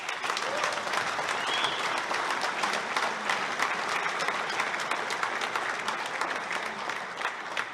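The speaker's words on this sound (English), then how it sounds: "which in itself I think deserves a round of applause" Warm, sustained applause from a large room of diners at a school old boys' dinner, dense overlapping clapping that stays even and continuous throughout.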